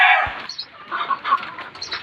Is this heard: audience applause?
no